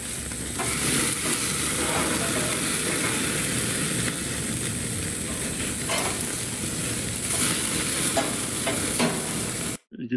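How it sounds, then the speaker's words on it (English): Cheeseburger patties sizzle loudly on a preheated Monument gas grill, a dense, close, continuous hiss with faint crackles that holds steady for about ten seconds before cutting off abruptly. "And cook these cheeseburger on this preheated Monument grill."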